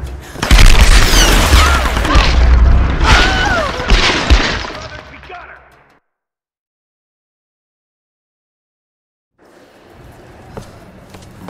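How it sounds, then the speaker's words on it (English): Gunfire in Tomb Raider Definitive Edition on PS5: loud, dense bursts of shots and booms mixed with game ambience, then a sudden silence and faint sounds returning. "Shooting from the side!"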